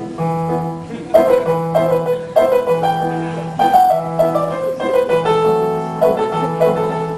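Piano playing a tune in a Mozart-like classical style, with flowing melodic runs over a repeating low accompaniment, bright and fairly loud with no voices.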